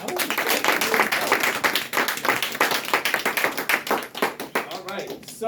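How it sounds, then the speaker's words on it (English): A crowd at a tenants' organizing meeting about housing and evictions claps in a dense, rhythmic burst. The clapping is loud and close, with voices mixed in throughout. "All right, clap."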